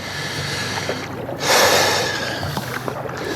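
A boat paddle working the water, with soft background wash and one louder splash surging midway through a short, close stretch.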